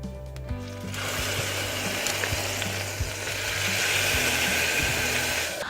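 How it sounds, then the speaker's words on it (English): Sofrito frying in olive oil in a pot, a loud steady sizzle that starts abruptly and holds for several seconds over a low background hum, with occasional soft ticks. "I have my sofrito and it's been cooking in the olive oil for about a minute"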